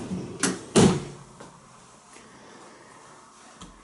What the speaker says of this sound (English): This is my closet. Got a sliding door if I want to.